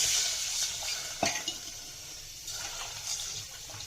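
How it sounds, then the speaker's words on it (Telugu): Water splashes and pours into a pot of cumin-garlic rasam, with a sharp splash early on and a soft bubbling, stirring sound after, fairly quiet. "తర్వాత వాటర్ వేసుకోవాలి."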